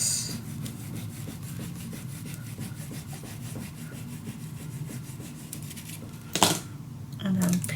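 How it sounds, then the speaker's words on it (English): A burnishing tool rubs firmly back and forth over paper on a handmade mini album, giving soft rhythmic scraping strokes close up, with a brief sharper crinkle near the end. "Burnish this down, of course."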